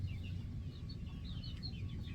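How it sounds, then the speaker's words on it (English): A backyard chicken in a garden gives soft, repeated clucks and short calls over a low rumbling background, close by and moderately loud. "Audrey, your chicken's eating the garden."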